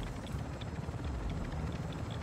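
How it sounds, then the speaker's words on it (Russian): A helicopter in the video game Warzone 2 DMZ keeps up a faint, steady rotor thrum with soft rhythmic chopping all the way through, carrying no speech. "Вертушку кройте."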